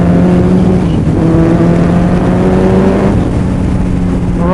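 A motorcycle engine revs loud and close. Its sustained pitch rises and falls with the throttle and carries on without pause, with no talk over it.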